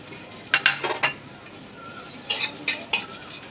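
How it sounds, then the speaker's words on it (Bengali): Garam masala, nuts and raisins fry in ghee as a metal spoon stirs the pan, giving two short bursts of sharp clinks and scrapes over a faint, steady sizzle. "ঘির সাথে গরম মশলা, বাদাম, কিশমিশ ভেজে নিচ্ছি।"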